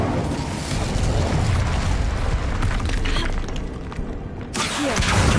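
In a wizarding video game, an Incendio fire spell is cast: a dense, roaring blast of flame that runs without a break, dips briefly, then surges back loud and close.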